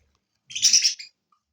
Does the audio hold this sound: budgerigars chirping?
yes